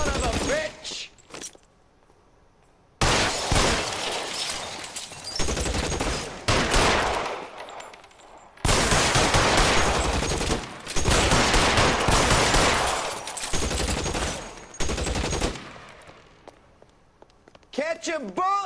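Bursts of close, loud gunfire from the L.A. Noire shootout come in clusters with brief quiet gaps, some rapid automatic runs, and shouted voices mixed in.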